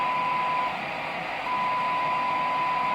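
A steady pure beep tone sounds over loud radio static hiss on an AR-3500 receiver, breaking off briefly in the middle before returning.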